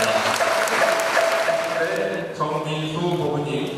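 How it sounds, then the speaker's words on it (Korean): Applause from the audience at a Buddhist precepts ceremony, a steady wash of clapping held at an even level throughout, with a voice speaking over it. "큰 박수 부탁드립니다."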